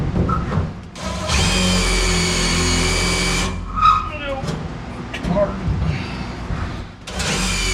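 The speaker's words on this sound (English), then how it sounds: "See if I can drill it out." A power drill whines in a long sustained burst as it drills out a broken screw in the sheet-metal floor of a 1967 Chevrolet C10 in a garage, followed by shorter scraping and tool noises nearby.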